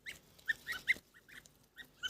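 Geese and goslings honk in short, separate calls, a few sharp honks clustered together then brief pauses, fairly close and quiet, with no one speaking.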